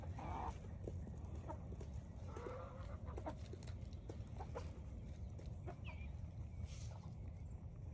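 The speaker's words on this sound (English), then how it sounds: "Chickens!" Chickens clucking on a quiet farm morning, scattered short calls near and far over a steady low background rumble, with a few brief higher squawks.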